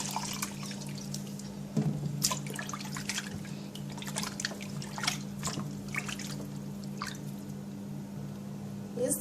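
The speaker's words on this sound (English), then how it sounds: "And I'm going to wash the chicken with it." Raw chicken washed by hand in a bowl of water with squeezed sour orange, with soft splashes, drips and trickling water over a steady background hum.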